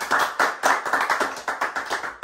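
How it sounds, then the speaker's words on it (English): A small group claps in an uneven, brisk burst of hand claps, loud and close, with no talking over it. "Round of applause, please."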